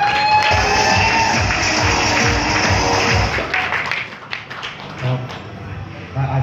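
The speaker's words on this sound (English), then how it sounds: "let's give them a huge round of applause" A crowd claps steadily in loud, dense applause with a few cheers, then the clapping fades and thins out.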